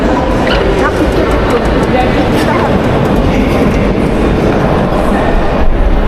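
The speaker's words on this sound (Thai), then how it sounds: "ถ่ายให้ดูบรรยากาศสถานีรถไฟเมืองเกนนะครับ" Busy railway station ambience at Ghent station, Belgium: a constant loud rumble of trains and crowd noise, with scattered voices and a dog yipping in the background.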